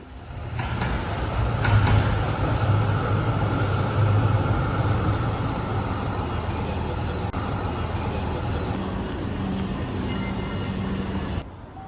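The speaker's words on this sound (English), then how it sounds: "before we move on to witness another tram moving by." A tram passes along a roadside, a steady broad rumble of wheels and motor that swells early and holds fairly loud before easing off, with no talk over it.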